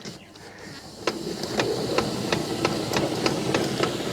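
A retractable garden hose reels back in with a steady run of regular clicks from the reel mechanism, fairly close and moderately loud, ticking along evenly for several seconds with no one speaking.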